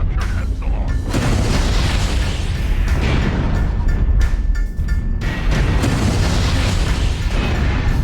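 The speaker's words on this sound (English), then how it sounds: "Couple of random shots, totally missed, but that's okay" Heavy weapon fire in MechWarrior Online, including ER PPC and LB10X cannon shots, gives loud booming blasts over dense, continuous mech rumble, with a few sharp bursts standing out.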